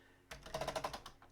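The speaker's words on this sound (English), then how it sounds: "Let me just do a quick test across the keyboard." Keys on a Commodore 64 keyboard being tested, a quick run of about a dozen close, faint plastic key clicks in rapid succession, alone without talk.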